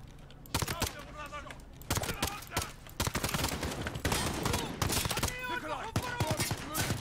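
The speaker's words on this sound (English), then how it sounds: "The gunshots, of course." Gunfire in the Modern Warfare (2019) video game campaign: rapid, loud bursts of shots crack out in irregular volleys across the clip, with brief pauses between strings of fire and faint game voices beneath.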